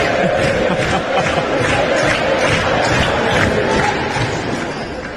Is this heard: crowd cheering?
yes